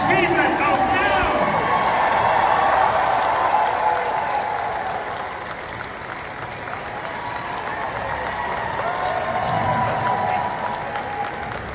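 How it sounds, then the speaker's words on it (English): Convention crowd at a comic con panel applauding and cheering for guests, a dense sustained wash of clapping and whoops filling a large hall, with a voice faintly under the noise. "Make some noise for my guests, David Ramsey, Emily Beth Rickard, and Steph"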